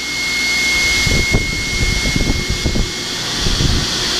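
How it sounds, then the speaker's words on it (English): An Oliver No. 260 sliding table saw runs with both motors spinning, giving a loud steady machine whine and whirr with a constant high tone and some low rumbling beneath it. "now both motors are spinning right now"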